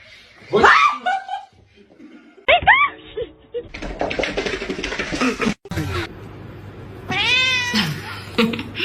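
A pet cat meows loudly and repeatedly, close by, reacting to someone brushing their teeth at home, with a burst of laughter and some household noise between the calls.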